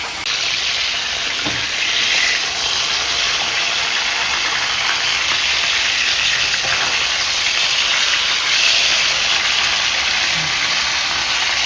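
Rock fish frying in a pan, a steady close sizzle and hiss of hot oil that holds evenly throughout with small crackling bursts and no talk.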